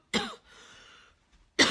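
Two sharp, loud coughs from a woman, one at the start and one near the end, separated by a quiet stretch of faint room tone.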